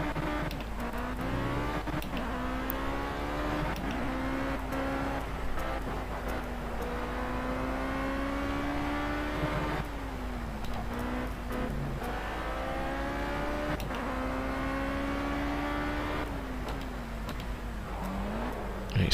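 A racing car engine in Project CARS on Xbox One holds a steady, sustained drone with rising and falling revs and gear changes, loud and continuous throughout.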